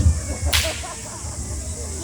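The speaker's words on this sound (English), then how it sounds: "I'll crack the whip." A single sharp whip crack rings out at an acrobatic street show in a Sunday market, one loud snap over low background hum.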